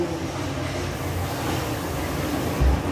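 A steady, heavy rumble of a train rolling past close by, near a train station, continuous and loud throughout with no pauses.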